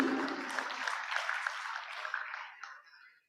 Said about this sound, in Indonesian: Baik, kita berikan tepuk tangan sekali lagi